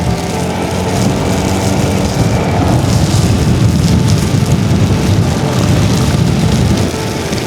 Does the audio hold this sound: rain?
yes